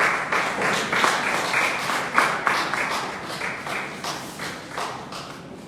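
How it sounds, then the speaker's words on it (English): Audience applause for a speaker at a menopause talk show in Rivers State, a steady wash of many hands clapping with a few louder claps standing out, holding throughout and easing slightly at the end. "Please clap your hands for Loretta Davis"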